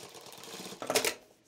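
A four-thread overlock sewing machine stitches a sweatshirt shoulder seam in a short quiet burst, a soft mechanical whir rising into a louder clattering run near the end before stopping.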